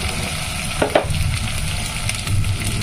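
Ginger frying in oil in a pan for spicy fish curry, a steady close sizzle with a few brief scrapes of stirring near the start and light clatter later.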